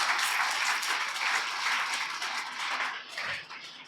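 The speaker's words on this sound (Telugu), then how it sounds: "గట్టిగా చప్పట్లు కొట్టొచ్చు కదా" An audience at a religious gathering breaks into sustained applause, a dense, fairly loud wash of many hands clapping that tapers slightly at the end.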